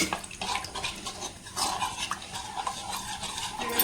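Restaurant-style chilli paneer pieces stirred into masala in a pan, with wet spoon scrapes and light clinks over a faint sizzle, close and short with no voices.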